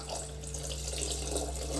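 Water is poured into pulao cooking in a pot, a close, steady trickling splash over a low kitchen hum.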